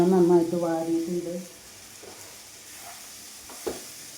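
Onions sautéing in a pan for a date curry give a soft sizzle and occasional stirring, with a voice speaking over the first part before the frying carries on alone more quietly.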